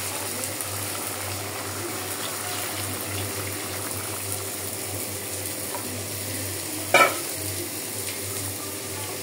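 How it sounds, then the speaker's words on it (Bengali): Water is added to a pot of simmering chicken and mung dal. A steady sizzling, bubbling hiss runs throughout, broken by one brief sharp clink near the end. "আমার মুরগি এবং ডাল দুইটাই কষানি হয়ে গেছে। আমি এখন পানিটা দিয়ে দেব।"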